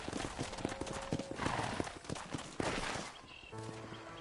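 Horse hooves clip-clop in the Red Dead Redemption video game, a steady walking beat of close hoof strikes with a horse's whinny and game music in the background.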